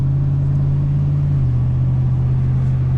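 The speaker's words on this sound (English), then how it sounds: "I just ease my truck up to speed." A truck engine running steadily and fairly loud, its low drone holding near 2,000 rpm with a slight pitch step partway through as it eases up to speed, with no talking.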